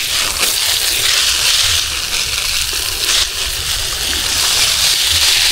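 Water pours and splashes steadily onto the ground around young durian and jackfruit trees on a farm, a loud, close hissing spray that carries on throughout with no one talking.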